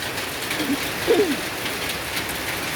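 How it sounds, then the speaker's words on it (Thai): Light morning rain falls steadily over a garden in Sa Kaeo, Thailand, a soft continuous patter at low level with a faint bird call briefly heard. "วันนี้ฝนพรำแต่เช้า"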